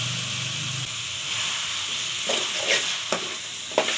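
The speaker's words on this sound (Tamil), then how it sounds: "சிக்கன் போட்டு லைட்டாக வதக்கினா போதும், ரொம்ப வதக்கணும்னு இல்லை." Chicken sautéing in a pan with tomatoes and green chilli for a Tamil chicken gravy, giving a steady close sizzle and hiss with a few stirring scrapes near the end.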